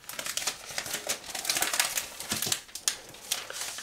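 Crinkly plastic and paper packaging of a new space gray 10.5-inch iPad Pro (2017) being unwrapped, a steady run of close crackling, rustling and tearing sounds with short sharp snaps, no talking.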